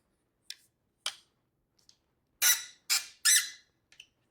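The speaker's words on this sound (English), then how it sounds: "the squeak is no joke" An adjustable 210 cm light stand with a ball head squeaks as its legs are spread wider: a few short faint squeaks, then three louder drawn-out squeals in quick succession and a final small chirp, with no talking.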